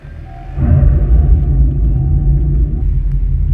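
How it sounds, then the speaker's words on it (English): A Dodge Charger electric muscle car's simulated Fratsonic exhaust starts abruptly after a brief pause, a deep engine-like rumble that holds as a steady, loud low drone close by. "here's what it sounds like to start up the Dodge Charger with the Fratsonic exhaust engaged"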